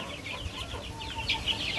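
Pahari hill chicks cluck and cheep in a short, lively burst, several small birds close by calling in quick overlapping chirps over a low background rumble.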